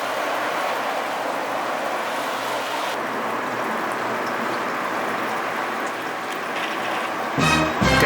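Water sprayed over a Honda CRX to check for leaks, a steady hissing spray drumming on the body, moderately loud and continuous, with a brief clatter at the end.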